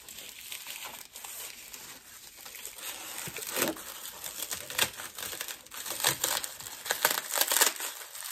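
Wrapping paper on a tea advent gift crinkles and tears in soft, irregular bursts, close but quiet, growing busier toward the end, with no talking.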